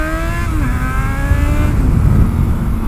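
A Yamaha XJ6 motorcycle, freshly fitted with a new clutch cable, clutch plates and tyres, revs loudly up close, its rising engine note climbing and shifting as it pulls away, heavy low rumble throughout the short burst.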